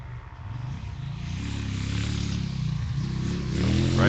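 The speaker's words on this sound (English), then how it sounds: "Sounds like a larger displacement bike." A larger-displacement motorcycle on a sand rally special stage, its engine note building steadily and growing louder as it approaches, with a rising rev toward the end and no talking.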